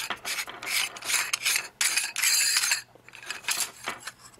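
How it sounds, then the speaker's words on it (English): Plastic mounting ring of a Saber 700 TV line CCTV dome camera being twisted by hand, giving close, rasping scrapes and rubs in several uneven bursts over a faint steady hum. "If you want to go and mount the camera, all you gotta do is twist this ring part."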